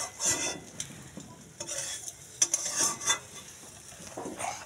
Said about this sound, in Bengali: এরকম ডিম ভাজছে